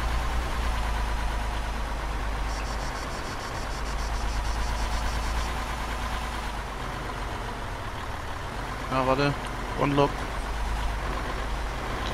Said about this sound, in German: Warum wollte ich diesen Gelände-LKW nochmal fahren?